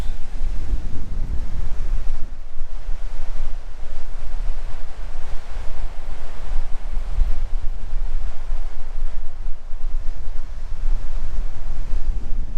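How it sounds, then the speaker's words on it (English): Waves crash steadily onto the shore at Notch Point at night, a loud continuous surf roar heavy with wind buffeting the microphone, with no voices over it. "You can see the waves crashing there."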